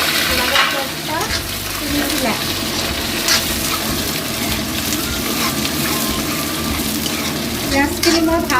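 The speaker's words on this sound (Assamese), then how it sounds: "পিঁয়াজখিনি মই ভালদৰে ভাজি ল'ম" Onions frying with bay leaves in oil for chicken curry, a continuous sizzle with frequent stirring scrapes and clatter, close and fairly loud.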